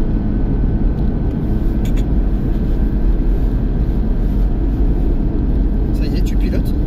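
A Porsche 981 GT4 is driven hard on a race track during a driving course, heard from inside the cabin as a loud, steady engine drone. An instructor talks over the continuous roar.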